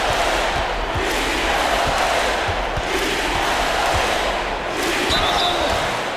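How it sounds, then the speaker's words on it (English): Arena crowd in an NBA 2K26 basketball game, a continuous loud roar of cheering fans with repeated basketball bounces thudding underneath. "Boy, they've given their fans plenty to cheer about, that's for sure."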